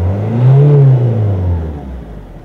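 A car engine, converted as a DIY electric vehicle build, revs up in a single rising and falling whir, loud and close, then settles as the pitch drops.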